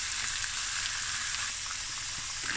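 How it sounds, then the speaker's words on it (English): Boneless chicken thighs frying in a pan, a steady dense sizzle and crackle with small pops, close and continuous, with no voices. "I let it fry and cook for about 10 to 15 minutes."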